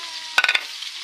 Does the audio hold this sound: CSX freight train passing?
no